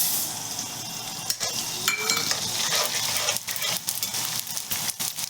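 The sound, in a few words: gond (edible gum) frying and crackling in hot ghee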